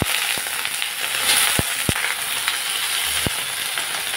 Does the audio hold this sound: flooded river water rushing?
no